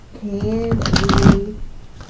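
A Signs from Spirit Love Oracle card deck is shuffled in a steady, close riffling burst lasting about a second and a half, with a faint voice murmuring underneath.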